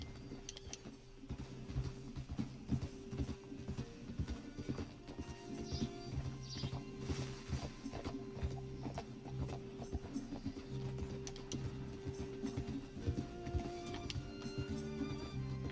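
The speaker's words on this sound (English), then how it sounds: "let me get on my horse" A horse gallops in the video game Red Dead Redemption 2 with a steady, rhythmic clip-clop of hooves that runs without a break, over a low sustained hum of background music.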